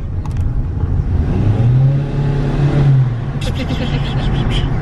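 A 1964 Ford Galaxie, the Ruffian build, accelerating hard from inside the car, with a loud engine note rising in pitch, easing off and then rising again, while people talk and laugh over it.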